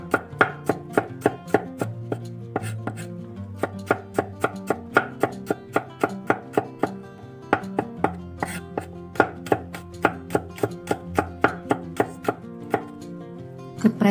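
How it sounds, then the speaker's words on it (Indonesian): A knife thinly slices shallots and garlic on a cutting board, producing rapid, crisp, evenly spaced chopping taps close to the microphone with no talking. "kita akan iris tipis bawang merah. Dan iris bawang putih."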